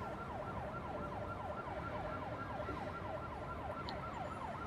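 Ambulance siren in the city-building game Cities Skylines, a steady wailing siren cycling up and down continuously over a low traffic rumble, moderately distant and without any talking.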